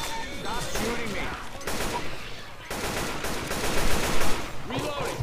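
Gunfire in Left 4 Dead 2, rapid bursts of shots crackling almost nonstop in layered volleys, loud and close, with brief pauses between strings of fire and voices faintly underneath.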